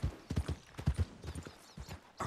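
A few hoof thuds from a horse in Red Dead Redemption 2, a short close burst of uneven steps in the game world.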